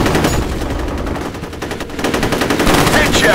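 Rapid automatic gunfire from the first-person shooter F.E.A.R., a loud, dense burst of machine-gun shots running continuously for the whole stretch with little pause.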